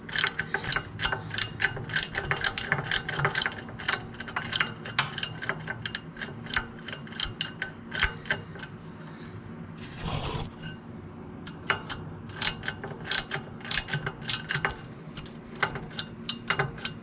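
A hand ratchet with a short extension and short socket loosens the exhaust manifold bolts on a Dixie Chopper mower, giving fast, steady clicking in repeated bursts with a brief pause near the middle, close and clear with no talking.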